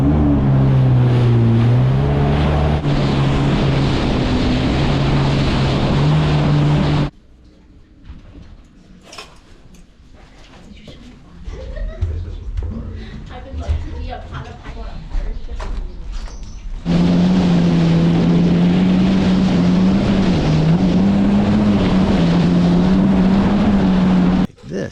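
A small motorboat's engine drones loud and steady up close, then drops away for several seconds to quieter splashing and water noise before the engine roar returns just as strongly.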